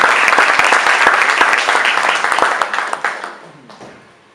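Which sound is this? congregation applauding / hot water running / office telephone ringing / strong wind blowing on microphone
congregation applauding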